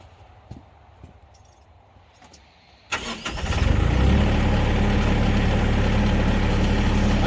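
A firewood splitter's engine cranks after a few quiet knocks and catches, then settles into a loud, steady idle just above idle speed, heard up close with no talking.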